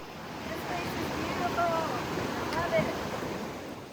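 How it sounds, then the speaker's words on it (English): Upper Switzer Falls in a canyon of the Angeles National Forest pours with a steady, dense, broadband roar of rushing water that holds constant throughout. "waterfalls raging and roaring through these canyons"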